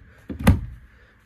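A jackknife sofa bed inside a 2016 Salem 27DBUD travel trailer folds down with one soft, close thump and a brief rustle, then quiet; no one speaks.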